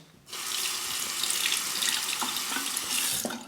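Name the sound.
tap water running to rinse safety razor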